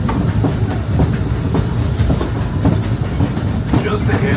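Disneyland Railroad train rolling along the rails through the park, a steady rumble with faint clickety-clack and hiss, close and continuous from on board.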